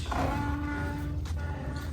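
A cow moos nearby, a drawn-out low bellow filling the whole moment, with faint outdoor background.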